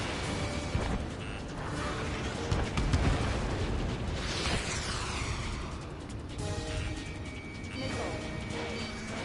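Incoming missiles and explosions in the jet combat game Ace Combat 7: dense, loud rumbling blasts and whooshing sweeps over a constant roar of engines, continuous and layered with no clear pauses.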